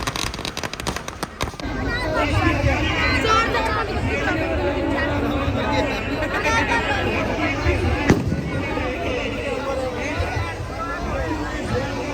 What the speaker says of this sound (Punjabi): ਫੇਰ ਦੇਖਿਓ ਪੈਂਦੇ ਪਟਾਕੇ